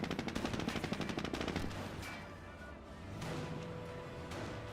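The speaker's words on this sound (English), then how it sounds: "Jeep does get a small burst there onto the Panzer Grenadier." A jeep's machine gun fires a short rapid burst at Panzer Grenadiers in Company of Heroes, a quick rattling stutter in the first two seconds fading into quieter battlefield noise.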